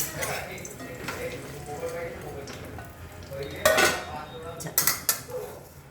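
Turmeric and salt sautéed in a pan for a spicy drumstick masala dish, a low sizzle under faint talk, with a few louder scrapes and clinks near the end.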